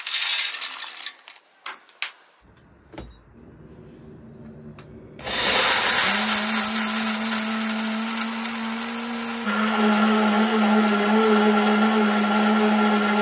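An Atomberg mixer grinder powders hard chickpeas: a few clinks and handling knocks come first, then the motor roars up loud and close with a steady whine that holds to the end.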